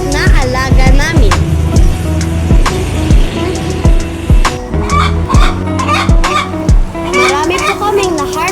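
Native chickens clucking in a backyard during egg collection, repeated close squawks and clucks mixed with scraping, clattering and a voice.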